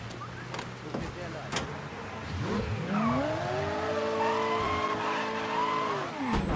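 A car in the video game Mafia 3 drives and skids, with a rising engine and a drawn-out tire squeal that swells and fades while voices murmur faintly underneath.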